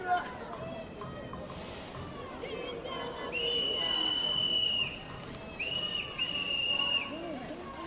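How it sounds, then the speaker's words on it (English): Shrill police-style whistles blown by protesters in a large outdoor crowd outside the Supreme Court, two long blasts later in the clip over constant crowd noise and chatter. "Yeah, whistles are bad."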